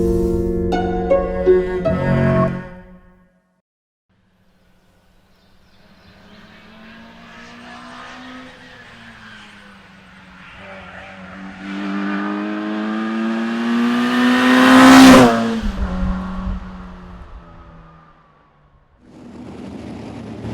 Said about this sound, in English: They are real racers, and the cars are surprisingly quick.